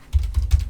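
Quick keystrokes on a computer keyboard come in three or four close, distinct bursts over less than a second, heard near and alone with no voice.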